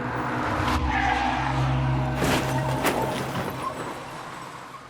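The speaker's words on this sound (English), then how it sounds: "was involved in a car accident" A car skids for a car accident, with tires squealing loudly over a running engine, then sharp screeching bursts and a fading rush as the car passes.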